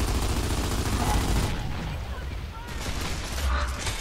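Video game gunfire in a team deathmatch on the map Aftermath, loud bursts of rapid shots with a mechanical rattle, fading briefly before picking up again, mixed with in-game voices.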